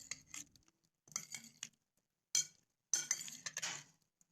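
A spoon clinks against a bowl while beet salad dressing with lemon juice and vinegar is mixed, in three or four bursts of quick, bright metallic taps with short pauses between them.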